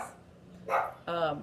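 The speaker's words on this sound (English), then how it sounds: "Sorry about my dog in the background." A dog barks twice indoors in the background, two short, fairly close barks after a quieter stretch, with no talking over them.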